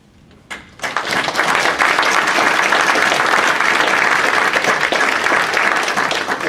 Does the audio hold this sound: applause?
yes